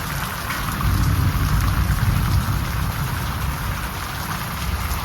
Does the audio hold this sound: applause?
no